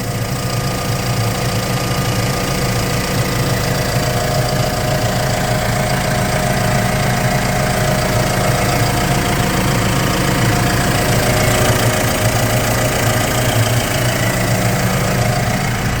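The six-cylinder diesel engine of a Linde H80D-03 8-tonne forklift idles steadily at close range, a continuous low rumble with a faint knocking texture and no change in speed.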